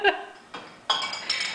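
Good household dishes clattering, with a sharp ceramic clink followed by two more rattling knocks of plates and cutlery, close and loud, with a voice faintly in the background.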